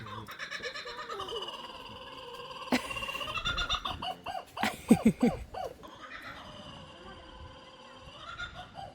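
A long-lived bird at Saaremaa zoo in Estonia gives a run of loud, harsh, tonal calls close by. The calls come in uneven bursts that crowd together midway and then ease into drawn-out cries.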